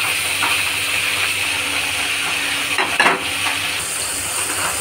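Spinach cooking in a pan with pumpkin, potato and spices, a steady hiss and sizzle with a brief louder burst of spattering near the middle, close and continuous without talk.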